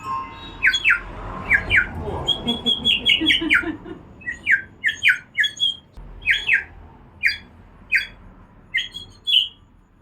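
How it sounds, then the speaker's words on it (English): A bird in Bandhavgarh squawks repeatedly in short, sharp, irregular bursts, some doubled, fairly close and clear against quiet surroundings with no voices. "Bird sounds like this."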